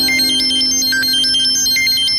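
An electronic ringtone plays a looping, bright melodic pattern, loud and close, with no voices over it.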